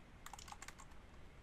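Quick burst of keystrokes on a computer keyboard as a Linux terminal command is typed, about a dozen light clicks over one second, then quiet room tone, no talking.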